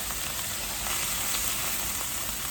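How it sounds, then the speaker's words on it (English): Shrimp frying in hot olive oil give a loud, steady sizzle and crackle with dense spattering throughout, close by and with no talking over it. "I'm getting splattered by the salt, by the olive oil for these shrimp, and it stings a little"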